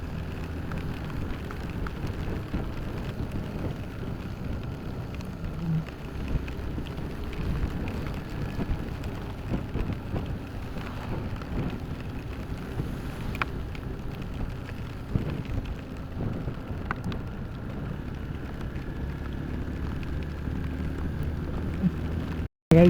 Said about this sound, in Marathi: इतका जोरात पडतोय, खूप पाऊस आहे.